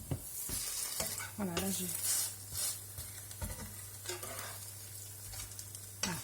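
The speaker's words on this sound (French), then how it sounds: "donc je vais faire cuire les œufs" Eggs frying in a pan with a steady crackling sizzle, broken by utensil clicks and scrapes, and someone speaks briefly over it.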